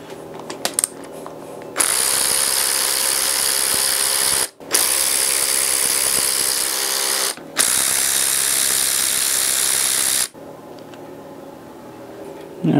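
A ratchet socket wrench turning bolts on an overheated Honda R18 engine during teardown, three long bursts of steady rapid clicking separated by short pauses, close and loud with no talk.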